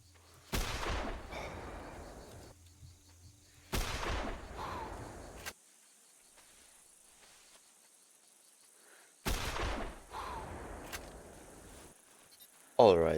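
Three sharp rifle shots ring out while hunting rabbits in theHunter Classic game, each blast loud and followed by a long rolling echo, separated by several seconds of quiet outdoor ambience.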